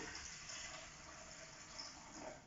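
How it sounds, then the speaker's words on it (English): Water pours steadily into a bowl with a soft continuous splashing rush, quiet and close. "we're going to pour water into our bowl again"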